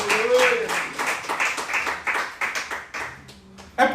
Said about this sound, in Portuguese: E aplauda ao Senhor com seu melhor.